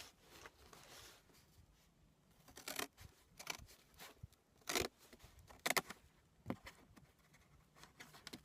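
Scissors cut through a cardboard box, giving faint irregular snips and crunching scrapes spread across the stretch, with quiet handling noise between cuts.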